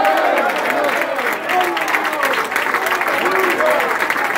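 Congregation at a Spanish-language church service applauds, a continuous, dense clapping of a large crowd with scattered voices mixed in.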